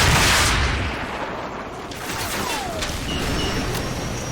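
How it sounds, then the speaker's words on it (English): A Stinger missile fired at a flare-popping helicopter in Call of Duty 4: Modern Warfare, opening with a loud roaring launch blast that fades into a long rushing hiss and distant rumble. "So, grab another Stinger and fire again."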